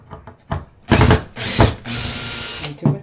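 Power drill backing screws out of a board on a rustic farmhouse-style DIY wooden fence, several whirring bursts of varying length with short gaps between, close and loud, no talking.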